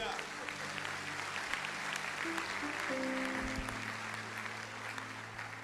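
A church congregation at a sermon claps in a steady, moderate round of applause, with talking and sustained musical tones underneath.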